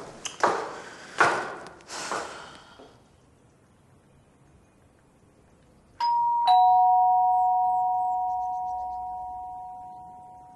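A doorbell in a home rings with a loud, sustained two-tone chime that rings out after a few soft thumps.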